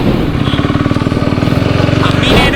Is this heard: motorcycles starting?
yes